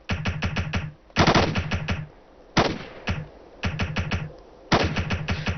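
Automatic gunfire rattles from a 60 gunner in the video game Ghost Recon, loud rapid bursts separated by short pauses, each burst a tight string of sharp cracks with booming low thuds.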